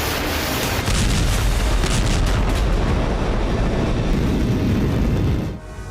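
A Su-25 bombing strike on Ukrainian forces near the Kursk border comes through as a loud, sustained, rumbling roar of blasts and heavy low-end noise lasting several seconds before tapering off.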